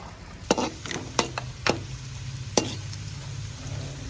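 Onions frying in a pan while being stirred, with a low steady sizzle broken by several sharp scrapes and clicks from the stirring, close and moderately quiet with no talk.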